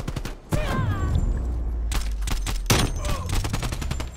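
AK rifle bursts crack out in rapid volleys in Call of Duty: Cold War multiplayer, loud sharp clusters of shots with brief gaps, close and dense, with some game chatter and effects mixed in.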